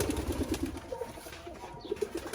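A pair of pet pigeons, a male and a female, give low soft rhythmic coos close by, repeated in short runs, with faint rustling and no talking.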